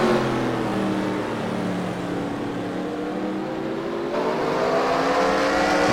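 A dirt-track race car engine at a racing series event, loud and sustained, with revs climbing and falling in long sweeps close by and no talk over it.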